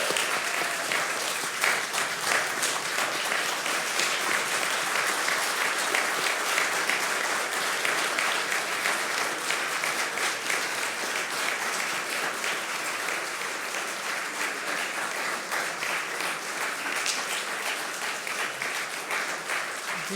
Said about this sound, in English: Again, I want to give everybody an opportunity to applaud